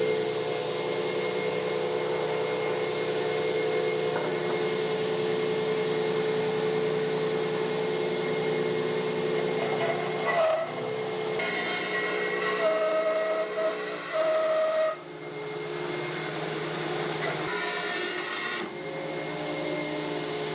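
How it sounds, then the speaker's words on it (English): Bandsaw making a 45 degree cut through a wooden block, a loud steady whine that shifts in pitch as the blade bites and then eases, with brief dips where the cut finishes. "I have my bandsaw set, I have my feather board set, so we're good to go."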